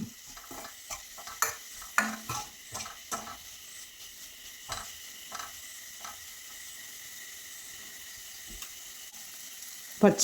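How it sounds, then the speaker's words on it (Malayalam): A spoon stirs turmeric and chili powder in a sizzling pan for a horse gram curry, making a string of close scraping strokes in an uneven rhythm over a low frying hiss, with no talking. "ഇനി നമുക്ക് ഇളക്കി കൊടുക്കാം."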